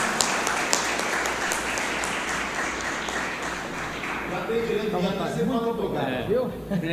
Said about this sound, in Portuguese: Gostaria de recebê-lo com a salva de palmas.